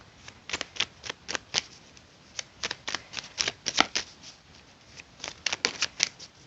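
Playing cards being shuffled in quick riffling bursts, several short clusters of crisp flicks separated by brief pauses, close up with no talking.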